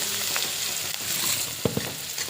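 Onion, tomato, potato and chili for poha frying in a pan while being stirred, a loud continuous sizzle broken by a few sharp utensil knocks, close and with no talking.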